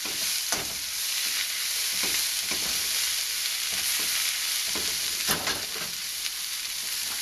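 String beans stir-fried in a hot pan for a Sichuan dish give off a steady close sizzle, with scraping strokes of a spatula tossing them at intervals.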